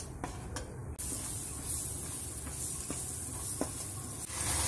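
Gram flour (besan) dry-roasting in a kadhai for a gobhi masala, giving a steady soft sizzle and hiss with faint scraping stirs throughout.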